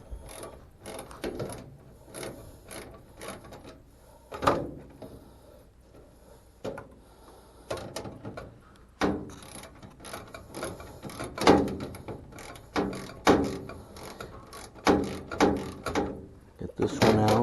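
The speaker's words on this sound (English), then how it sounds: "get a little ratchet, 1/4 inch." Small 1/4-inch ratchet clicking in bursts of quick pawl ticks while working on a dryer that isn't heating, close up with pauses between runs and some background noise.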